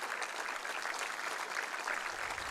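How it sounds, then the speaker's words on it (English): Sustained crowd applause at a Dublin Senior 1 ladies' Gaelic football championship final, marking a poignant dedication; a dense, steady wash of clapping from a distant stadium crowd with no break for the whole stretch. "that's got the biggest round of applause of the whole lot, a poignant moment"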